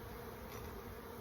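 Honeybees hum in a continuous dense drone around an open hive, a soft, steady buzz with no breaks.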